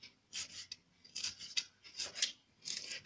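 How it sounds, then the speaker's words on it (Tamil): Fresh mint leaves being cut into small pieces, heard as soft, crisp snipping bursts that come in quick groups with short pauses, quiet and close, with no talking. "புதினாவையும் சின்ன சின்னதாக கட் பண்ணிக்கலாம்"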